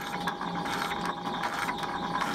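A metal lathe cuts the last few threads on an engine flywheel spacer held in the chuck, giving a continuous mechanical whir with fast, ratchet-like ticking and no voices.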